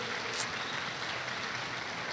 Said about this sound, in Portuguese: Podemos dar uma salva de palmas ao Espírito de Deus.